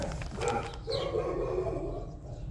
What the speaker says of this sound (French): Avec les chiens qui aboient, ça va être sympa.